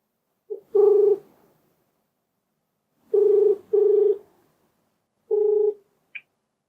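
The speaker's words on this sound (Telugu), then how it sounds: "ఒకసారి కాల్ చేస్తానండి. చేద్దాం." A telephone call ringing out over the line: several evenly pitched tone bursts separated by silent gaps, followed by a brief high blip at the end, with no voices.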